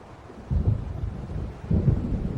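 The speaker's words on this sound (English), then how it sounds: "It seems there's a storm coming." Low rolling rumbles of thunder from an approaching storm in the video game Alan Wake, two swelling surges over a steady wind-like roar, with no speech.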